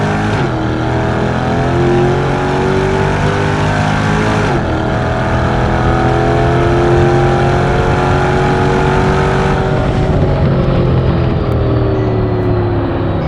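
A supercharged Chevrolet Corvette C8 Stingray (Hennessey H700) roars loudly up close, launching with tire spin, its pitch climbing steadily through a couple of gear changes as it accelerates hard.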